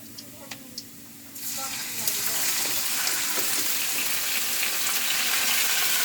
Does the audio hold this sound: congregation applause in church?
no